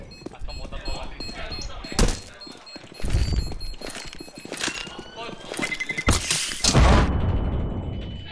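A bomb blast in the online shooter Counter-Strike: Global Offensive, with several sharp booming bursts and a big detonation near the end, set among clattering game effects while players talk over it.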